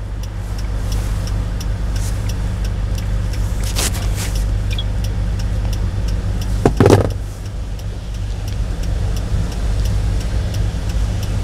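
A manual-transmission car engine hums steadily at low pitch, rising briefly in a revving burst before settling back to a steady drone inside the cabin during a driving lesson on a snowy day.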